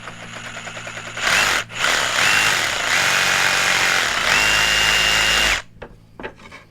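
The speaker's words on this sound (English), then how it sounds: "I think I'm actually going to use the jigsaw for this one, and so I'm just going to lightly cut into it." A jigsaw cuts lightly into wood for a DIY kitchen cabinet pull-out drawer, running as a loud buzzing whine in several bursts with a brief dip, then stopping into a few quiet knocks.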